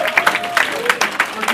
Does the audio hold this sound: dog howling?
no